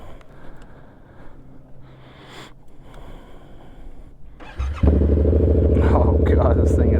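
After a stretch of quiet shuffling, a 2024 Yamaha R7 with a full aftermarket exhaust suddenly fires up and settles into a loud, steady, close rumble.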